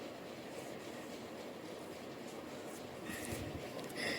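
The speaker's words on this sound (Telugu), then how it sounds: "బోట్ స్టార్ట్ అయింది" A tourist boat engine runs at Bhavani Island near Vijayawada, giving a low steady rumbling drone with rushing noise, fairly faint, growing a little louder near the end, with no voices.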